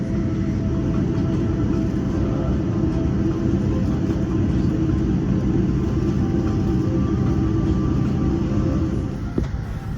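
An American Airlines Boeing 787-9 taxiing into Haneda Terminal 3, heard from inside the cabin as a steady, loud low engine rumble and hum that holds throughout, with a faint click near the end.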